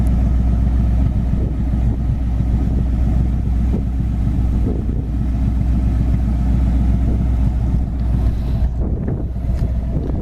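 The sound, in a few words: 1966 Ford Mustang GT engine with dual exhaust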